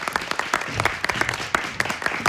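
A studio audience at a Korean lecture-style TV program applauds to welcome a guest, with brisk, close, continuous clapping and sharp individual claps standing out.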